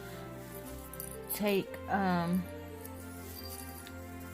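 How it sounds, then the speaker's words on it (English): A small bell on a Christmas wreath jingles briefly while the wreath is handled, giving a faint bright tinkle mixed with a quiet voice and handling noise. "excuse the noise from the bell"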